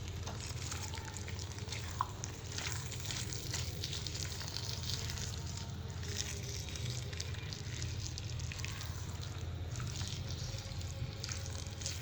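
Shredded cabbage and capsicum cook in a pan on a low flame, giving a steady soft sizzle and crackle with light spatter, faint and continuous and with no talking.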